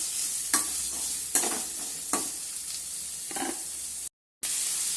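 Chopped onions fry in hot oil in a kadai, giving a continuous close sizzle with several louder stirring scrapes. One brief gap of silence falls near the end.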